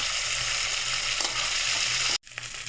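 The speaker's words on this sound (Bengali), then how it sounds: "চিংড়ি মাছটা লাল করে ভেজে নেবো।" Shrimp frying in hot oil with cumin seeds, a loud continuous close-up sizzle with crackling spatter, cut briefly by a sudden silence before the hiss resumes more softly.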